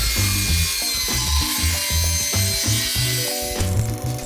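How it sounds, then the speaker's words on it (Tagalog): An INGCO cordless circular saw cuts through wood in a steady series of short, rhythmic bursts, loud and close, with no talking. "Magsusukat at magkakat na tayo gamit ang INGCO meter at INGCO cordless circular saw."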